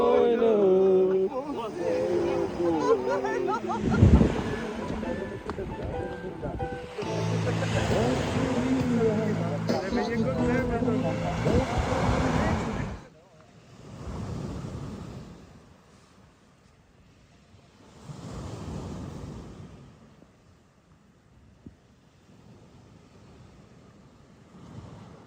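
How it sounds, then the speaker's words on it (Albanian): Sea waves at a beach surge and roar loudly under wind noise, then quieter swells roll in and fade at intervals. "Dete."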